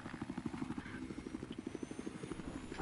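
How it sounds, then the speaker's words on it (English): A helicopter in the Battlefield 4 video game whirs with a steady, fast rotor thumping and a low engine hum, close and continuous for the whole stretch. "Or I'll spawn in this helicopter"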